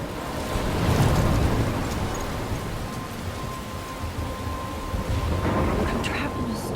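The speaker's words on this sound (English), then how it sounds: "I'm trapped in a storm?" A thunderstorm in the video game Life is Strange, with dense rain and surf-like wind roaring continuously and a low thunder rumble building near the start, loud and enveloping without any voices.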